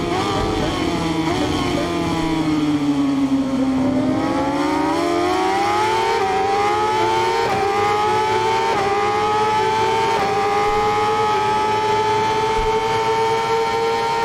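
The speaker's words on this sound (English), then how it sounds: "Gonna hit the rev limiter." Naked 1000 motorcycle engine in RIDE 5 revving steadily higher and holding near the rev limiter, a loud, close, buzzing whine with a brief dip and climb early on.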